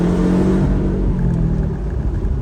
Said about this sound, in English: A 4-cylinder sounds this good.